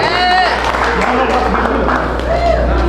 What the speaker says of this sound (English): y'all clap it up for Air